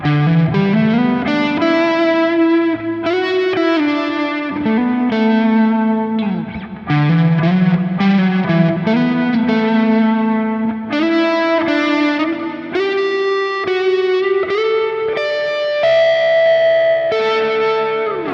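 A Fender Telecaster electric guitar on its neck pickup plays a continuous melodic line of sustained single notes and bends through an amp, cab and reverb with no overdrive, loud and close with no talking.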